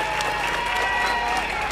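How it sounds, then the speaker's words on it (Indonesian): Steady, dense applause from a crowd at an outdoor community gathering in Grobogan, a continuous clapping wash filling the whole moment without pause. "Tepuk tangan."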